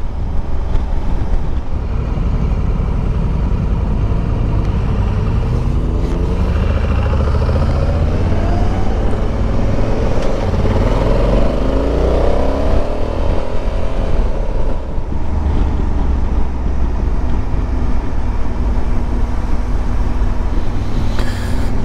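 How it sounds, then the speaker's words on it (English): A line of motorcycles and a van pass on a country lane near Matlock, engines rising and falling as the bikes go by one after another, loud under heavy wind buffeting. "A line of bikes and a van."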